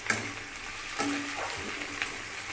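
Chopped green chillies for chilli paneer sizzling and frying in a pan over low flame, with a couple of soft scraping stirs and a steady broadband hiss throughout, no talking.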